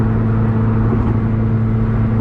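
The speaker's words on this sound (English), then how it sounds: "for the exhaust system, what a great noise it has, what a great tone. Not too droney." Steady engine drone and exhaust note from a tuned 2015 Subaru WRX with the FA20DIT engine, Mishimoto intake and aftermarket exhaust, heard from inside the cabin while cruising; a constant low hum throughout with no talk.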